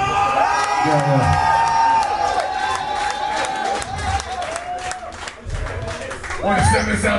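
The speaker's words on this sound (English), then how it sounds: "Give yourselves a round of applause." Rowdy crowd at a metal concert at MCP Apache, cheering, whooping and shouting loudly throughout, with scattered clapping and a vocalist's voice over the PA.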